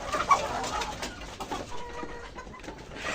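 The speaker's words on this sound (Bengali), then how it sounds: "মাশাআল্লাহ দেখেন মুরগিগুলো কত সুন্দরভাবে খাচ্ছে।" Fayoumi chickens cluck softly while they peck at a midday meal of feed, with close, scattered bird calls over a busy, rustling background.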